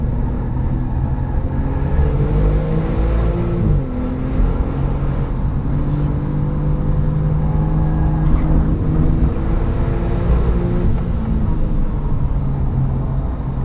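A COBB Stage 2 tuned Porsche 997 Turbo on a track lap: a loud, continuous engine drone heard from inside the car, rising and falling in pitch as it accelerates and shifts, with a brief dip near four seconds and no talk.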